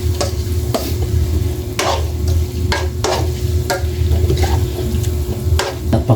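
A spoon scrapes and clinks rhythmically through adobo sa gata in a pot, irregular stirring strokes over a constant bubbling simmer, close and fairly loud.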